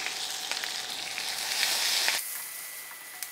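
Pepper, cumin, garlic, dried red chillies and curry leaves tempering in hot oil for kattu charu, giving a loud, steady sizzle that cuts off sharply partway through, followed by near quiet.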